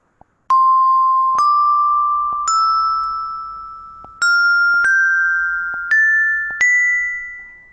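Seven bright, bell-like xylophone tones from a phone app ring out one after another, each pitched slightly higher, rising in a slow ascending scale with lingering decay.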